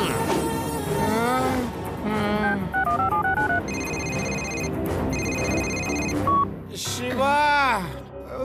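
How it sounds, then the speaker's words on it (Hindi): Telephone ringing and dialing tones in a Hindi children's cartoon, with steady stepped ring bursts and a short run of dial beeps between lively cartoon voices and music. "शिवा को फोन करना पड़ेगा।"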